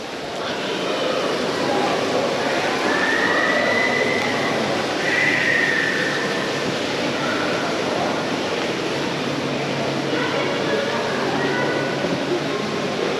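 A small park train rides through Quranic Park in Dubai, giving a steady rolling rumble with faint high wheel squeals now and then, heard close up over the whole stretch.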